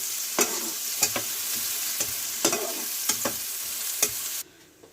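Fish frying with onion in a pan until browned: a steady bright sizzle broken by repeated spatula scrapes and stirring knocks, then the sizzle cuts off abruptly near the end.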